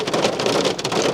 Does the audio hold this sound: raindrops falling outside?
yes